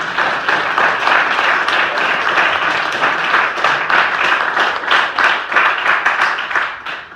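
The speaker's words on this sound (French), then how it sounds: "On peut les applaudir très chaleureusement." An audience applauds warmly at a live stage show, dense sustained clapping from many people close by, holding a steady rhythm from start to finish and easing only slightly at the end.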